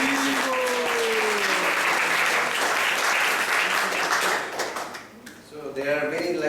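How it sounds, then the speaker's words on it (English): A temple congregation at a Sunday class claps in a steady round of applause that fades out near the end as a voice begins speaking. "So let's give a round of applause for this."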